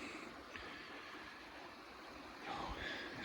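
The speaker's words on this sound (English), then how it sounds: "Oh, isn't that river so awesome?" The Apple River flows past a rural property as a faint, steady rushing of water heard from a distance, with a slight swell toward the end and no talking.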